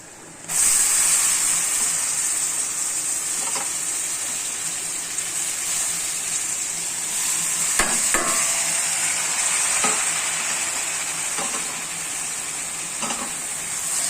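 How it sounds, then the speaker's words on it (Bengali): Chopped potatoes fry in a pan with a loud, steady sizzling hiss that runs throughout, broken by occasional stirring knocks and scrapes. "আলুগুলো দিয়ে দিলাম, তারপরে ভালো করে আপনারা লাড়িয়ে নেবেন।"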